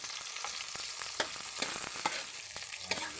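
Tomato, garlic and ginger fry in a pan with a continuous soft sizzle, punctuated by several sharp spattering pops at irregular intervals, close but fairly quiet.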